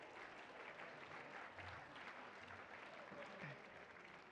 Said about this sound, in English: Another round of applause for Paul as he heads back.